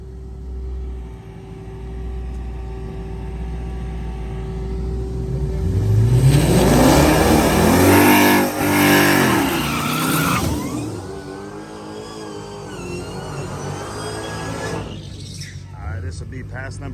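The twin turbo Coyote drag car Tank makes a hot-lap pass at a drag strip, its engine building to a loud, rising roar that peaks mid-clip and then fades with tire noise as it moves away.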